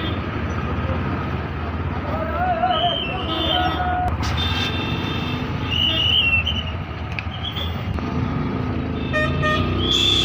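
Busy bus stand traffic in Karimganj, with engines rumbling and several car and truck horns tooting in short repeated blasts, near and loud, while someone talks over the din.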